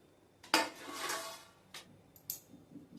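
Used cooking pots and utensils, oily from making green coriander chivda, are handled and wiped: a few quiet metallic clatters and scraping knocks, close by, with no talking.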